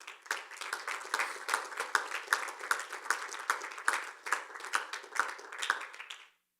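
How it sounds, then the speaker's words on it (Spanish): A church congregation gives a man a round of applause after his baptism, with rhythmic unison clapping, fairly faint and steady for several seconds before stopping abruptly. "Dale un aplauso a Jaime."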